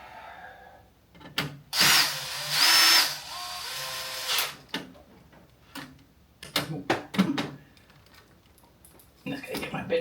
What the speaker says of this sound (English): Now I'll start putting all the screws back in.